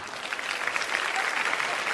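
An audience at a gathering applauds children with a dense, steady round of clapping that lasts throughout, near and fairly loud.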